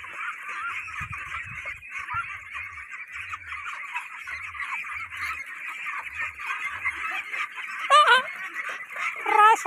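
Ducks in a farm duck pen quack and chatter continuously as a loud, dense flock close by, with a few sharper, louder calls near the end.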